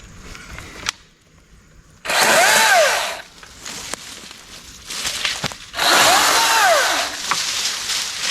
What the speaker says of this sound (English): this Milwaukee top handle chainsaw it's a lovely chainsaw and I like it a lot.